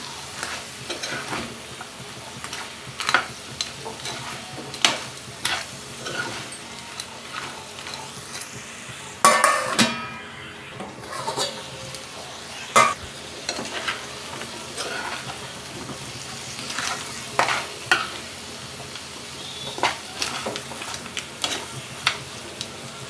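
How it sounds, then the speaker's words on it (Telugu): Crab curry with chili powder is stirred and fried in a pan, giving a steady soft sizzle broken by sharp scraping and clattering stirring strokes, with a louder burst of activity midway. "టూ స్పూన్స్ కారం వేస్తున్నాను బాగా కలుపుకుని ఒక నిమిషం మగ్గిద్దాం"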